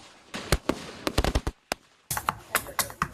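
Fireworks and firecrackers from Hunan province, China, popping and cracking in rapid irregular bursts, loud and close, with a brief pause midway before another dense volley.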